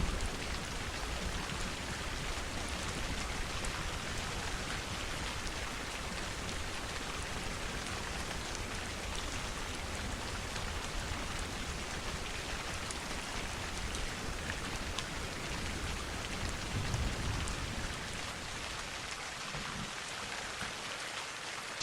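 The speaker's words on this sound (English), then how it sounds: "listening to the soft sound of rain" Soft, steady rain falls continuously for about twenty seconds, an even broadband hiss of drops on surfaces with no voices, holding a constant low level throughout.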